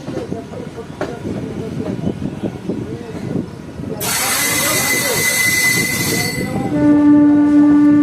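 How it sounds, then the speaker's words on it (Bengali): A slow-moving Azimganj–Rampurhat passenger train rumbling along the rails near a station, its steady low clatter joined midway by a loud, sustained metallic wheel squeal and then a long horn blast close by. "আমাদের ট্রেন দেখতে পাচ্ছ ধীরে ধীরে"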